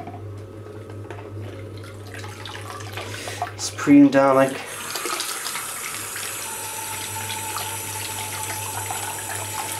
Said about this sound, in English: the hot water running through the tap is actually hot enough to bend the eye back into position